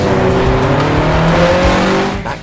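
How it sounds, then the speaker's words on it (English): A Porsche 911 accelerates hard in one continuous loud run, its engine note climbing steadily in pitch with a faint tire squeal, then easing off near the end. "The supercar icon that is the Porsche 911."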